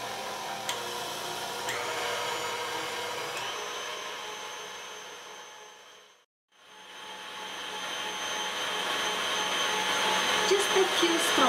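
An electric mixer whips egg whites for meringue with a steady whirring drone that fades to silence briefly and then ramps back up.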